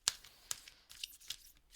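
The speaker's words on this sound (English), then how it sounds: "So I'm just going to give this one more shuffle here." A deck of oracle cards is shuffled by hand, giving a few sharp papery riffles and slaps spaced irregularly, close and fairly quiet, with no talking.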